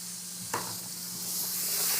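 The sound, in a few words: tomato paste frying and being stirred in a pan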